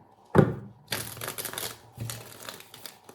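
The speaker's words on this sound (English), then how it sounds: "One more shuffle." Tarot cards are shuffled in two short riffling bursts after a sharp tap, close and fairly quiet, with no talking.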